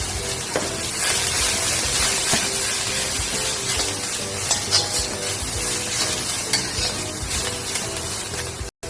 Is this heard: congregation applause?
no